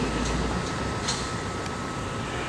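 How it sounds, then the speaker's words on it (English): A train rumbles past with a steady mechanical drone and a few faint rattles and clanks of the cars, continuous and moderately loud through the whole stretch. "That was the end of the train."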